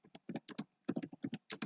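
Close, crisp keystrokes on a computer keyboard come in short clustered bursts with brief gaps, typing data into form fields with no voices.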